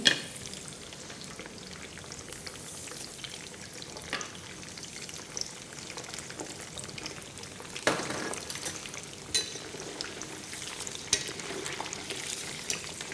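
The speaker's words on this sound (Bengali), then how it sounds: "আমরা ডিপ ফ্রাই করবো পনিরকে" Paneer deep frying in oil heated to 180–200 degrees, a steady dense sizzle and crackle throughout with occasional sharper pops and bursts, close and alone with no talk.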